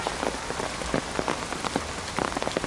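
Heavy rain drums constantly on a nearby surface, a dense hiss broken by sharper individual drops.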